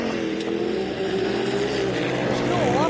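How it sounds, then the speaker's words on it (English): Can-Am UTVs race in the main class at the 2017 MetalCloak Stampede, engines droning loudly with wavering pitch as they rev and pass, while a commentator speaks over the continuous noise. "main race for the Can-Am UTVs class"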